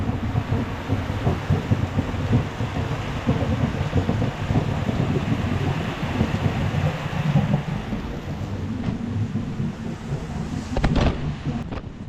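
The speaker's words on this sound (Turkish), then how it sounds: "bu arada dışarıda çok güzel bir yağmur yağıyor" Steady rain hissing outside, a dense continuous wash of noise with no voices.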